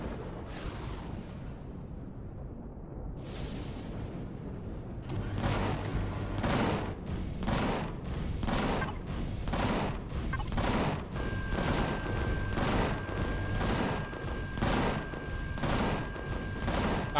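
Gunfire in the space survival game Empyrion Galactic Survival: a few separated blasts, then a rapid, loud run of regular shots that keeps going with a steady tone in the background.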